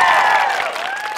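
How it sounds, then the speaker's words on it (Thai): A studio audience on a Thai talk show claps in a short, loud burst, with a voice and music tones sounding over the applause. "ใครหนึ่งคนต้องปรบมือเสียงดังให้วันนี้"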